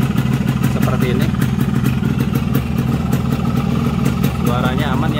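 A Yamaha RX King two-stroke motorcycle engine idles loud and close, a steady buzzing rattle with a low throbbing beat, while a person talks over it.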